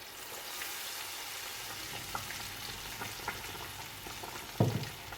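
Shiitake tempura frying in hot oil gives a steady close crackling sizzle throughout, with small pops and one louder bump near the end, no voices.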